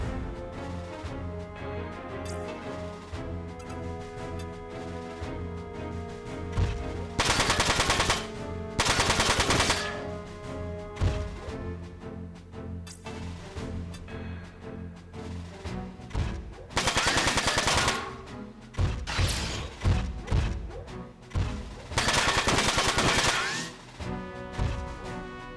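Rockets launch and explode amid heavy gunfire in the PS2 game Front Mission 4, with rapid bursts and loud blasts recurring over a continuous game music bed.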